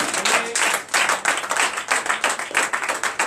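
A church congregation claps in acclamation to Jesus during a night deliverance and prophecy service, steady dense clapping from many hands, loud and continuous without speech.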